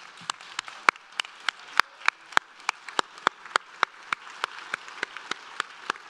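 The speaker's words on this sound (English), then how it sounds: "giving a round of applause to the fine faculty who sit over here and behind me" Evenly spaced claps ring out at a graduation ceremony for a radiography program, honoring the faculty; the sharp, steady beats sound like a small number of clappers in a large hall.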